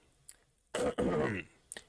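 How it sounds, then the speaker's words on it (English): A man on a sports podcast clears his throat roughly and coughs, a harsh burst of about three-quarters of a second following a faint breath, then trailing into a small grunt. "hear my cough"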